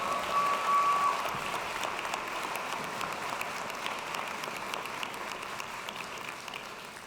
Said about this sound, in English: Claps for the sports management majors.